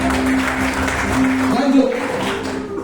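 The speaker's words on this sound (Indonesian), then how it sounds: "Tepuk tangan buat Tuhan Yesus." Applause from a church congregation, a dense broadband patter lasting a few seconds at steady volume, with singing or speech tones running over it.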